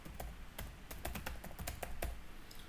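A steady run of crisp key clicks and clacks as a server name is typed on a computer keyboard, close and moderately quiet over faint room hiss, with no speech.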